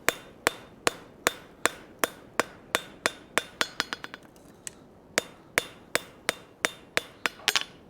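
Sharp, ringing hammer blows strike hot iron on an anvil in a steady rhythm, about two or three per second, with a brief cluster of quicker lighter taps midway before the even beat resumes, close and clear.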